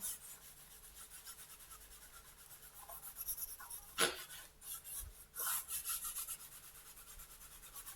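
Soft, irregular rubbing and scraping strokes of a cloth cleaning a colored pencil, quiet and close, with a couple of sharper scuffs partway through.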